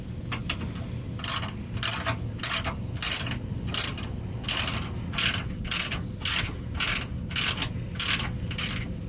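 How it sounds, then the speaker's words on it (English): A ratchet wrench with a 10mm socket loosens the sway bar bracket bolts on a 2007 Chevy Silverado. About a dozen sharp bursts of rapid clicking repeat in a steady back-and-forth rhythm, close and clear. "So I got a 10mm socket, and go ahead and start taking it off."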